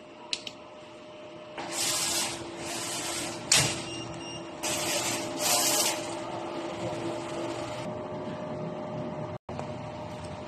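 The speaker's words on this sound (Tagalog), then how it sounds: "Punasan na wiper pagkatapos mag-head clean. At nozzle test." A DTF printer runs a head cleaning and nozzle test. Irregular bursts of whirring and spraying rise and fall over a low steady hum, with a sharp click midway and a brief dropout near the end.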